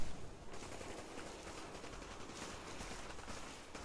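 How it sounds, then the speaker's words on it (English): Gunfire in the video game Fallout 4, played in survival hardcore multiplayer: a dense, continuous crackle of shots at steady loudness for about four seconds, with no talking. "I hear lots of gunfire."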